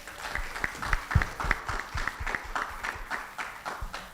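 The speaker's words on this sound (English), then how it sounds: "I think we should just give a round of applause to Business Day." Sparse, quiet clapping from a small group at a business conference, individual claps audible in an uneven rhythm rather than a full roar.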